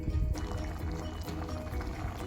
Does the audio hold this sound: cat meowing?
no